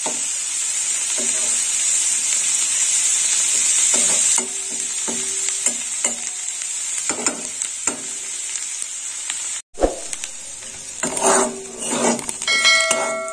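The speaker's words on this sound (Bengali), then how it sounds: "এর সঙ্গে নিম পাতাটা এইভাবেই ভাজা হয়ে যাবে।" Steady sizzling of neem leaves frying in a pan, with intermittent scrapes and stirring clatter, close by and fairly loud throughout.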